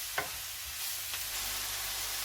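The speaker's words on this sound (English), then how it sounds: "Give it all a good stir." Salt-and-pepper-seasoned Portuguese pork chops are stirred in a hot pan, with a brief scrape near the start over a continuous, moderately quiet sizzle and no talking.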